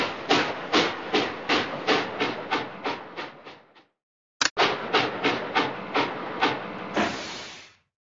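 Rhythmic steam-train chuffs from the Curious George Busy Day Trains video game, about nine evenly spaced bursts, a brief silence with a sharp click, then another run of chuffs ending in a sustained hiss.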